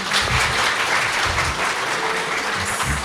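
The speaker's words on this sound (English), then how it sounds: "So please give her a big round of applause." Sustained audience applause for an award nominee at a job orientation programme, a dense, steady wash of clapping from a sizable crowd that holds at full strength for the whole stretch, with no voices rising above it.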